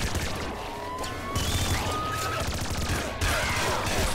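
Weapons in the top-down shooter Nuclear Throne firing in fast, continuous volleys, with crashes and impacts layered over dense game noise, without a break and fairly loud.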